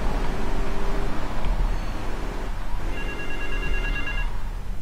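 A payphone rings in Grand Theft Auto III, repeated electronic trills sounding over a constant game engine and traffic drone, fairly loud and unaccompanied by speech.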